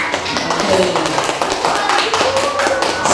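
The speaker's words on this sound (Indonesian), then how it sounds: "tepuk tangan untuk kelompok 4" A group claps steadily for a few seconds, dense overlapping hand claps with voices mixed in beneath the applause.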